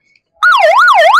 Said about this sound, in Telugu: అది స్విచ్ ఆన్ చేసి ఒకసారి సైరన్ వేస్తారు చూడండి సార్